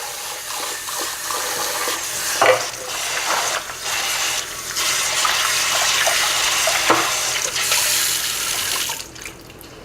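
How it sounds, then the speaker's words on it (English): Tap water runs steadily into a pot as it is rinsed clean of soap in a kitchen, a continuous close hiss with occasional clanks of the pot against the sink. "Rinse it so there's no soapy flavor in our gravy"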